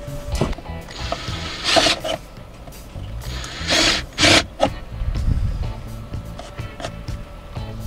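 A drill bores a hole through a panel in a boat cockpit, coming in several short whirring and grinding bursts with clicking and rattling between them, all at close range.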